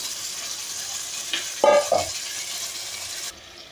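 Mutton pieces and soaked rajma stirred together in a pot for a mutton curry, giving a steady sizzling scrape with a brief louder clatter midway, then quieter.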